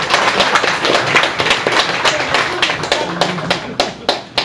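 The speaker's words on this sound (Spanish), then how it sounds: "Aplausos." Audience applause at a live show in a Mexican grill, heard as crisp, uneven clapping from a small crowd with distinct individual hand claps standing out, close and fairly loud.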